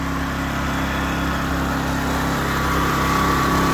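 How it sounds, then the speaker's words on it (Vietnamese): A 6 hp Kubota OHV petrol engine on a rice transplanter runs steadily at a close, even idle-like drone, a small high-revving hum with no pauses and no one talking. "Máy nổ im ru luôn. Máy đời mới, máy OHV nha bà con. Máy công suất 6 ngựa, máy xăng OHV Kubota."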